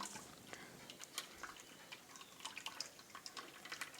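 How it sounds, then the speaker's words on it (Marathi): Small, irregular drips and trickles of water draining from butter close by, quiet and scattered with no speech. "तर यामधलं सर्व पाणी निथळून घ्यायचं आहे"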